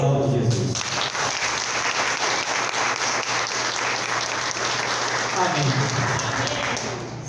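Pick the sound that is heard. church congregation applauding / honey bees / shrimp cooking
church congregation applauding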